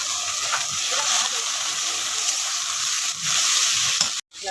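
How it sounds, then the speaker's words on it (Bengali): Turmeric, chili powder and coriander-cumin powder sizzle and fry steadily in hot oil for a river rohu fish curry, a loud continuous hiss with faint stirring scrapes, cut off briefly near the end. "মশলাটাকে কষে নিয়েছি।"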